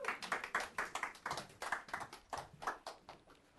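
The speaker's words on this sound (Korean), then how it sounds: "박수로 환영해 주세요" Audience applause welcoming a guest speaker onto the stage at a talk event, a steady burst of many hands clapping, fairly close and continuous for several seconds.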